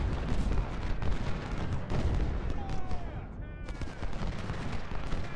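Dense battle noise from the Civil War strategy game Ultimate General: Civil War at Cedar Mountain, with continuous rolling gunfire and booming artillery forming a loud, steady barrage throughout.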